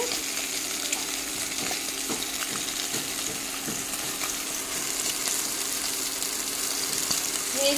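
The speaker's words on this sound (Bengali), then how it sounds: "আমি এখানে টমেটো কুচি ডিমগুলি ভেজে নিলাম" Beaten eggs frying in a pan in a home kitchen, a steady close sizzle that crackles evenly throughout with occasional soft stirring scrapes; no talk.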